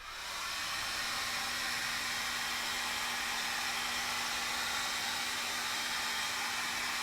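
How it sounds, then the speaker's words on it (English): A heat gun blows steadily on Warhammer 40K Sisters of Battle thigh armour, a close, loud, continuous rushing hiss with a faint hum running through it and no talking. "You can see as soon as I hit it with my heat gun that it changes."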